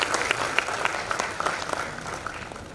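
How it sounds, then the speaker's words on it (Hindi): A crowd claps steadily at a hackathon event, a dense patter of many hands that fades slightly toward the end. "पहले उसके लिए ताली बजा दीजिए।"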